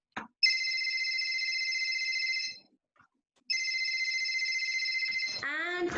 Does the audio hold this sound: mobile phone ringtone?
yes